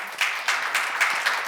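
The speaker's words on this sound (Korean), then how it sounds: "박수로 하나 놓으세요." A church seminar audience claps together in a brief burst, a quick run of even, rhythmic claps of moderate loudness lasting under two seconds.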